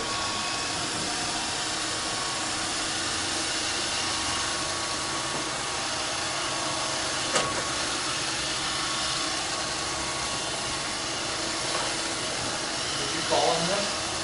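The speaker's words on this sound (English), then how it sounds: "It's a racist robotic vacuum." Roomba 531 robotic vacuum cleaner running indoors, a steady loud motor whir and hiss holding constant throughout, with a couple of brief knocks as it bumps along.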